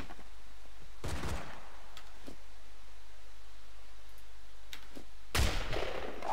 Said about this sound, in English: So I've now got medic shooting at me.